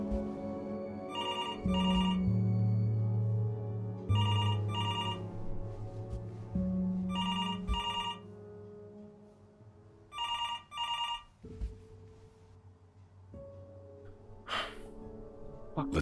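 A telephone in the game Before Your Eyes rings in paired bursts, repeating four times with pauses between, and breathy gasps and low sounds come in between the rings.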